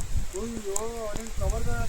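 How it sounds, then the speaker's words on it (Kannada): Heavy rain falls at Kavaledurga fort near Thirthahalli, a steady close hiss of downpour running throughout while a person speaks over it. "ಫುಲ್ ಮಳೆ ಹೊಡಿತಾ ಇದೆ ನೋಡಿ ಸುತ್ತ"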